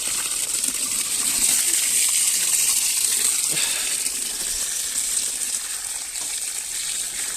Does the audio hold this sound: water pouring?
yes